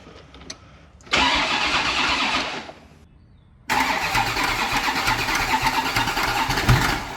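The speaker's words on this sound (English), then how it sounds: "We're starting it in first." A flood-damaged ZR1 Corvette engine, soaked in saltwater, cranks and catches, runs briefly, dies, then fires again and settles into a loud, rough idle with uneven pulses.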